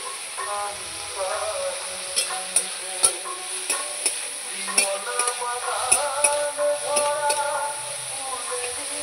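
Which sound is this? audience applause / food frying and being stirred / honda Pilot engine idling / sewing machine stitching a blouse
food frying and being stirred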